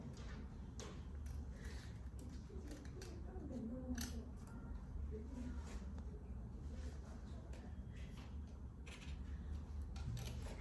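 Soft, repeated snipping of scissors through paper, close by, over a steady low background hum.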